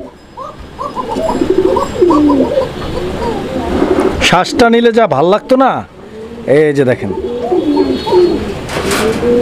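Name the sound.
Shalik Koka fancy pigeons cooing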